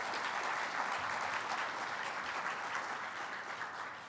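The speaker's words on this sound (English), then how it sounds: "Let's give them applause" Steady applause from a seated audience at a STEM summit, a fairly faint wash of clapping lasting a few seconds and slowly tapering off.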